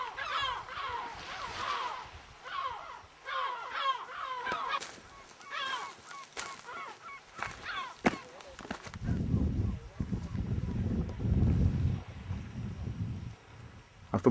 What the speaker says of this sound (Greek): Έχει πάρα πολλούς γλάρους και υποθέτουμε ότι έχει πολλές φωλιές από γλάρους.